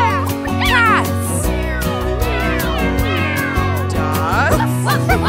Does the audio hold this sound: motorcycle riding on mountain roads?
no